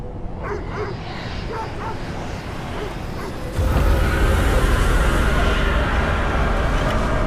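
A dog barks and yips during a video game cutscene, several short calls early on, then a louder noisy stretch of game sound covers the rest.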